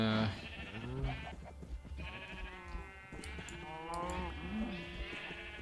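Sheep bleat in the blocky sandbox game Minecraft, several wavering baa calls overlapping one after another across a few seconds, fairly close with a low ambient hum underneath.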